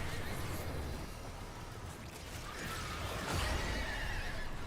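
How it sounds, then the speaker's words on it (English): Horses whinny and neigh over a steady, noisy background, with a louder burst of neighing near the end, in the video game Warframe. "Horses! So many horses!"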